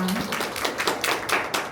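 Applause from an audience at a seminar on virtual convergence education, a dense patter of hand claps filling the room steadily for a short stretch.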